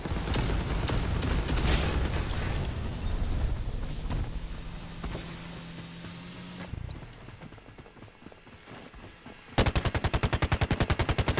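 Gunfire in the shooter game Farlight 84: dense, loud automatic bursts for several seconds, a quieter stretch, then a rapid evenly spaced string of shots at the end.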